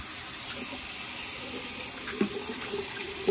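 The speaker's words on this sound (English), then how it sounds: "Alright, there's the hot water." Hot water running from a bathroom tap into a sink, a soft, steady hiss with faint splashes and a couple of small clinks, fairly quiet and close.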